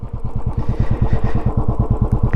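A Royal Enfield Bullet 350 with a modified silencer is ridden close by, its exhaust thumping in a rapid, steady beat with a loud, rough burble.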